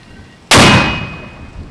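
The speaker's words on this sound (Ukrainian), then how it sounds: "Постріл!" A single sharp, loud weapon shot cracks out suddenly, Ukrainian forces firing on the front line, its boom ringing and slowly decaying into the distance.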